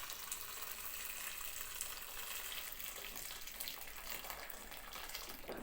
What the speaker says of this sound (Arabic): بقى على الفول بالمية السخنة. اهم حاجة المية تكون سخنة جدا. ونزود المية شوية.